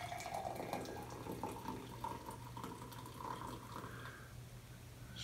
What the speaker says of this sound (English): I'm going to pour this water into this glass